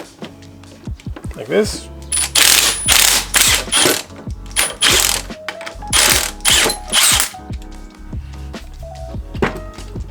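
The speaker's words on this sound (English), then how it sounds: "with a power tool, this is a mid torque from Milwaukee, just gonna unscrew it right here" Milwaukee mid-torque impact tool unscrewing a nut on a coilover assembly for an Infiniti G35 coupe, heard as several loud ratcheting bursts of a few seconds each, with a voice talking briefly between them.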